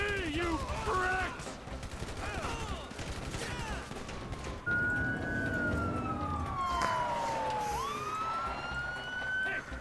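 Police sirens wail in the GTA V video game, several rising and falling tones sweeping and overlapping loudly amid bursts of gunfire and game noise, with someone talking in places.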